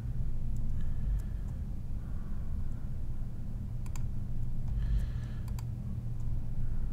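Sharp, light computer mouse clicks come in small scattered bursts over a steady low hum, close by and with no talking.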